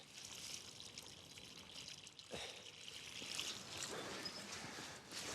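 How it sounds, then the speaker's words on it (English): Garden plants are watered by hand, a soft continuous trickle and splash of water running steadily for several seconds, fairly quiet and close, with faint outdoor ambience. "Let's give these a little bit of water."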